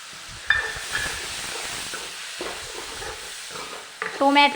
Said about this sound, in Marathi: मसाले तेलामध्ये व्यवस्थित भाजून घ्यायचे।